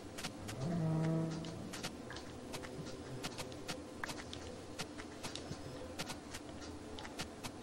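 A cow moos in the video game Minecraft, one clear low call near the start, followed by quieter ambient game sounds and scattered light clicks and taps.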